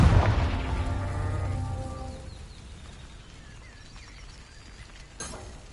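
The Confringo blasting spell explodes in Hogwarts Legacy with a loud, deep boom that rumbles and fades over a few seconds, followed by quiet ambience and a small crack near the end.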